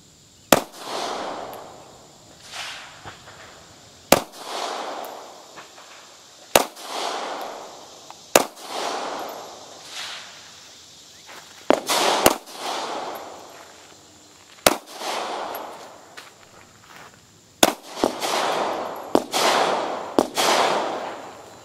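A Taurus 709 Slim 9mm pistol firing Aguila 124 grain jacketed rounds at about 8-10 yards, roughly ten sharp loud shots spaced a couple of seconds apart, each followed by a brief echoing tail, with no talking.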